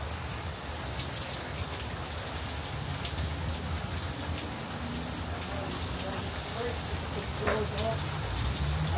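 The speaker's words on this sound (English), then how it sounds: "It's been raining since last night." Steady Florida rain patters on surfaces with a constant hiss of drops, a faint voice briefly audible near the end.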